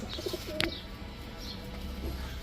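Rampuri pigeons coo softly at close range, with a few brief chirps and rustles over a quiet room background.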